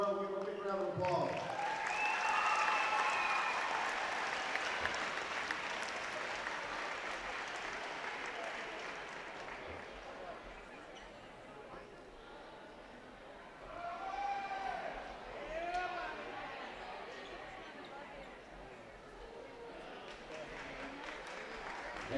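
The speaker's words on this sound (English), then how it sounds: "give her a big round of applause" Crowd applause and cheering in a school gym during an honors ceremony at a basketball game, a broad sustained roar that swells early, eases, and rises again with shouts, while an announcer's voice carries over it.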